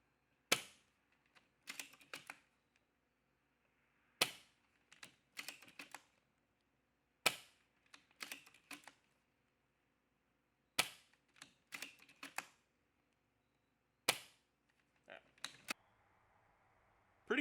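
An Amoeba Striker airsoft sniper rifle fires five sharp shots spaced a few seconds apart. Each snap is followed by a quick cluster of clicks and rattles as the bolt is cycled, quiet overall.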